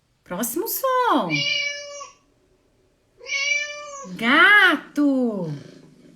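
Two clear cat meows, the first a long rising-falling cry, the second a pair of shorter meows after a brief pause, close and loud.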